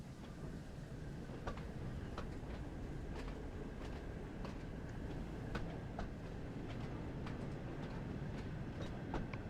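Train running in the video game Thomas Wonders of Sodor, a steady low rumble with faint rhythmic clicks like wheels on rail joints, continuous and even in level, with no talk.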